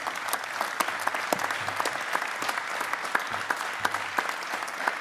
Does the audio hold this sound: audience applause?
yes